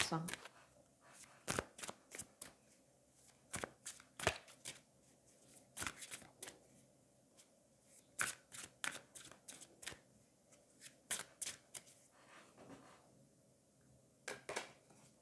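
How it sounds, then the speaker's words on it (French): Fallen Angels oracle cards are shuffled in quick, crisp riffling bursts and taps, close and fairly faint, while a person speaks quietly in between. "on va aller prendre une carte du Fallen Angels."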